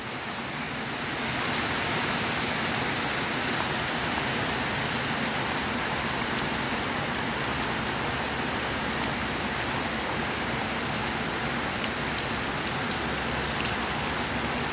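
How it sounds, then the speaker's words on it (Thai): Rain sets in and falls steadily, a broad continuous hiss that begins softly and quickly fills out, with scattered drops ticking nearby and no voices. "ฝนละ ฝนเริ่มเริ่มมาติดแล้วครับผม เขาเรียกว่าฝนเริ่มติดแล้ว"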